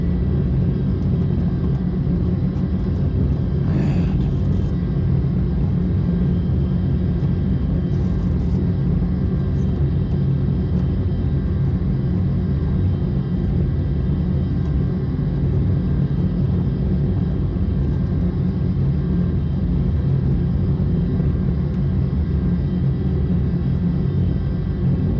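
Vulcan bomber taxiing at walking pace in a flight simulator game, heard as a steady, loud low jet rumble and whine that holds evenly throughout with no talk.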